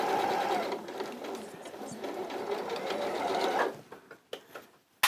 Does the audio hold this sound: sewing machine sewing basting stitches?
yes